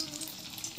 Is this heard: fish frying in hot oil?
yes